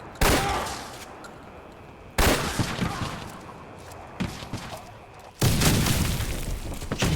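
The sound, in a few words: grenades exploding in the video game Fallout 4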